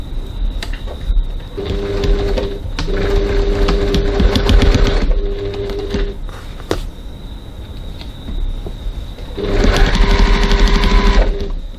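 A sewing machine runs in several bursts of rapid mechanical stitching while sewing bag piping, loud and close, with brief pauses between runs.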